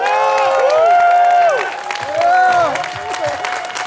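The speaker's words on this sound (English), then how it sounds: "Give a warm shout out and applause for Andrew Yang." A crowd at a universal basic income rally in Mountain View, California claps and cheers loudly and continuously, with whoops and voices rising over the applause throughout.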